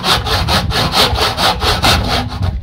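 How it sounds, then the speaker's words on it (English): A blunt handsaw cuts through a big piece of wood in a steady, loud rhythm of about ten push-pull strokes, each a rasping burst, close up and without talk. "With a blunt handsaw."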